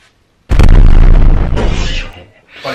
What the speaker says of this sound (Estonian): Panen sinna plahvatusefekti.